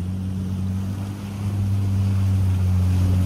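Kawasaki and Sea-Doo jet skis run on Lake Keowee, a steady deep engine drone with a low tonal hum that swells slightly louder as they pass, over wind and water noise.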